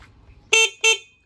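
Two short, loud honks from the horn of a SYM Bonus motorcycle under test, the second blast following closely after the first, with a quiet pause before them.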